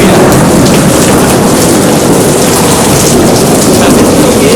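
Heavy rain pours in a dense, loud, unbroken roar with the low rumble of thunder from a storm underneath, filling the whole stretch with no voices.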